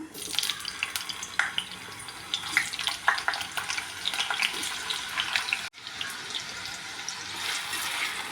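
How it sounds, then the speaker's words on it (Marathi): Raw pricked potatoes for aloo dum fry in hot oil, giving a continuous crackling sizzle with scattered sharp pops, moderately close and steady, with a brief dip partway through. "सगळ्या बटाट्याला टोचे मारून झालेले आहेत, ते आता आपण तळून घेऊया।"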